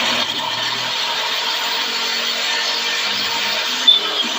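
A power drill whirs steadily as it bores holes in plastic while a KEMIMOTO UTV grab handle is installed on the vehicle, a continuous loud whine that holds for several seconds with a brief clunk near the end.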